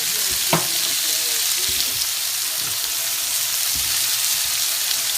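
Ingredients browning for gumbo sizzle and fry steadily in a pot, a continuous close hiss with a few stirring knocks and scrapes, no talk.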